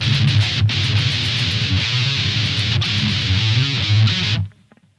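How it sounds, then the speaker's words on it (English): Distorted electric guitar plays a riff, a dense, loud, continuous wall of tone for about four and a half seconds before cutting off abruptly. "So the whole thing should sound like this."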